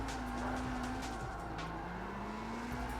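A car drifting in CarX Street on PS5, its engine droning steadily at high revs under throttle, with the pitch dipping and climbing as the gas is eased and reapplied, plus light tire noise, continuous and fairly loud.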